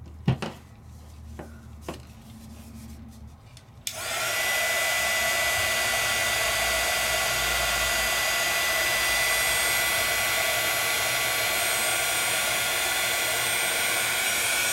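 A few soft taps and handling sounds, then a hair dryer switches on and blows a loud steady whoosh over wet watercolor paper for the rest of the time.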